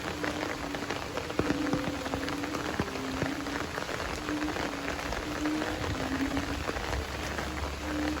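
Steady monsoon rain falls continuously on surfaces in a rural town during nonstop southwest-monsoon downpour, a dense, even hiss of drops with occasional heavier splashes, and a brief word spoken at the start.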